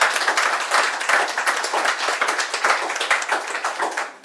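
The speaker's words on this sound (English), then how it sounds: "I'd also like to say to a big round of applause, definitely for these two." An audience in a hotel function room applauds the hotel's hosts with steady, dense clapping that stays loud and even for several seconds before cutting off.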